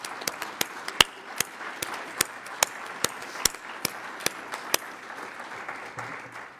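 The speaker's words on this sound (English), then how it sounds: "So I really think they deserve a big round of applause" Scattered, isolated claps ring out one at a time at a conference closing plenary, sharp distinct hits spaced across the room over a quiet hall, thinning toward the end.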